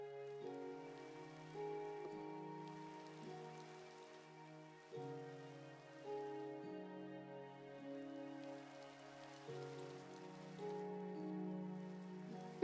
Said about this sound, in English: Got a nice little rainy atmosphere.